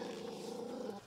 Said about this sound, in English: Jasper's growling at Mum